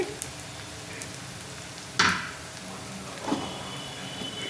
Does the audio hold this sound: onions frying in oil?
yes